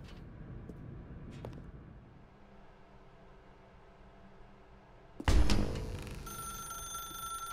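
A telephone rings in the video game The Stanley Parable, a steady electronic tone over a faint background hum, then cut off by a sudden loud, bright burst of game sound.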